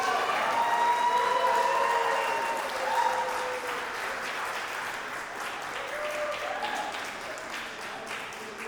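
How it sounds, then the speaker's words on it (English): Guests at a wedding reception party applaud steadily throughout, a broad wash of clapping from a crowd that stays fairly even in loudness with faint voices mixed in. "round of applause one more time"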